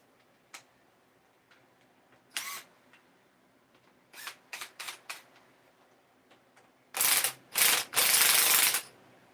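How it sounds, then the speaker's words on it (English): Big ratchet wrench clicking during an LS3 V8 engine rebuild, sparse single clicks followed by quick bursts of ratcheting and three loud, longer cranks at the end, close and clear. "On a big old ratchet."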